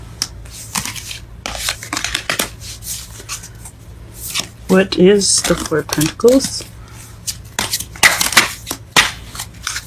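Papery rustling and soft slapping of tarot cards being shuffled, irregular and close, with a person speaking briefly over the handling sounds.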